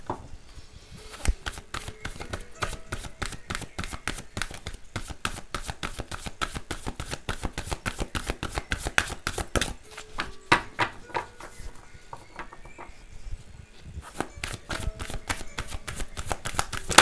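Oracle cards being shuffled by hand, a quick, steady run of soft riffling slaps repeating without pause, close and fairly quiet, with no talking.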